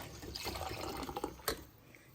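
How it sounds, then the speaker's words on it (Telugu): Water pours and gurgles into blended curd for buttermilk close by, a soft continuous trickle with a small splash toward the end. "ఇంకొంచెం నీళ్లు కలిపి"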